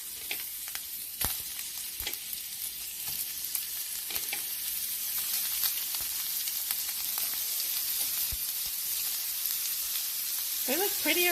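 Steady, loud sizzling and crackling of shrimp frying in a hot pan, with occasional sharper pops and clinks throughout.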